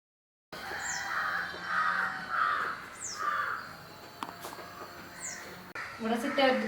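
Small birds nesting in a hanging money plant in a home garden, chirping and calling in repeated short bursts, with some crow-like caws, close and fairly clear.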